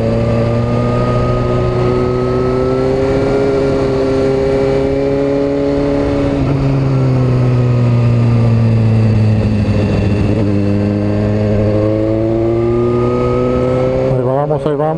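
A car engine with a newly fitted loud exhaust drones and rises through revs, its steady low roar swelling and easing across the stretch, close and loud throughout.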